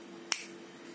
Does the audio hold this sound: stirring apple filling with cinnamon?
no